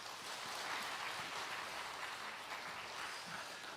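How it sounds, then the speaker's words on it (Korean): Faint, distant applause from a church congregation during a Korean worship service, a steady soft wash of clapping lasting a few seconds with no talk over it. "박수하겠습니다."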